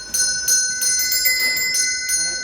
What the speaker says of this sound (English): rings one of 11 bells from different parts of the house